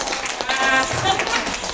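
A crowd claps loudly and continuously, with voices calling out over the steady applause.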